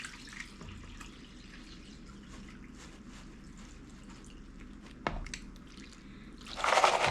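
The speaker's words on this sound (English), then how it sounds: "We're going to give this a really good washing." Muddy gold-mining paydirt from Alaska being washed with water, a steady close wash of splashing and trickling liquid with a brief knock near the end and a louder gush of water at the finish.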